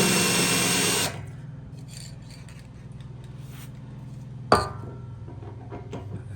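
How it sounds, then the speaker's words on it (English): A power drill bores into a thick workbench, whirring loudly for about a second, then a quieter mechanical hum continues with scattered scraping and a sharp clunk midway. "I use a little bit of lubricant to stop the drill bit overheating"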